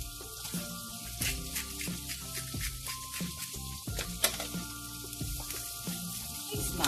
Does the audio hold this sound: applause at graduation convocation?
no